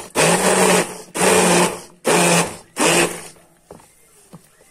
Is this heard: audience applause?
no